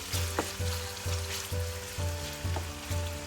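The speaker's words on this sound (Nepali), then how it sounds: "अब चिकनलाई राम्रोसँग यहाँ फ्राई गर्दै पकाउनु पर्छ।" Chicken fries in a pan with a continuous close sizzle, steady crackling spitting and a regular rhythmic pulse beneath, with no voices.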